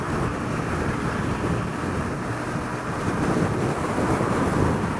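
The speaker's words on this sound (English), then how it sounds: "That wind was too much" Wind buffeting a rider on a Honda CBR125 motorcycle, heard as loud, continuous broadband roaring rumble and microphone wind noise that surges slightly without letting up.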